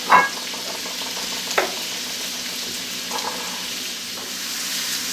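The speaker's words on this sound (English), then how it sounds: "let's go ahead and add the mushrooms. And we'll stir these around." Mushrooms sautéing in a pan for deep dish pizza, a steady sizzle with a few scraping stirs of a utensil near the start and around the middle, close and alone.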